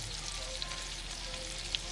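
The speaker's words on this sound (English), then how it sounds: "Sizzling." A plant-based Beyond Burger patty sizzles steadily on a hot grill, a continuous crackling hiss with no talking.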